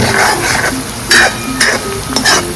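Onions frying in hot tempering oil for batata poha, a steady close sizzle with brief louder bursts as they are stirred in the pan.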